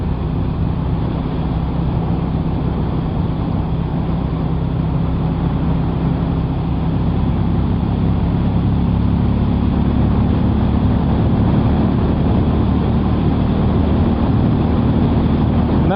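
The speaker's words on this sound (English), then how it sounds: "I hope you can hear the kind of drum of the engine" A Hero Hunk 440 motorcycle pulls from fifth gear with a continuous low, steady engine drum and rising rumble, loud and close, mixed with road and wind noise throughout.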